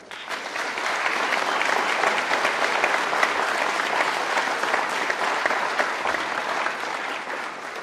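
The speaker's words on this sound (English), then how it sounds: "would you please join me in thanking your loved ones" Sustained applause from an audience at a school graduation ceremony, a dense even wash of clapping that holds steady for several seconds before easing slightly at the end.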